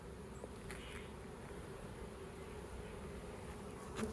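Honeybees crowd both sides of a full comb frame in a swarm-trap hive, giving off a steady, low, even buzz that is faint and continuous with no voices.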